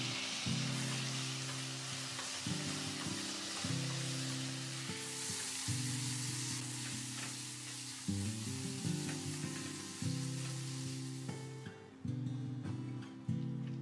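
Spice masala frying in oil for a sesame chicken curry, a loud continuous sizzle with bursts of crackling and scraping stirring throughout, close up and with no talking, ending in a brief quieter moment.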